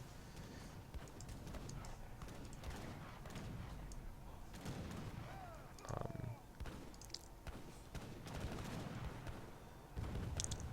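Battle sounds from a real-time strategy game match, with skirmisher and artillery fire: dense, continuous thumps and cracks layered over a busy background, with occasional louder bursts near the middle and end.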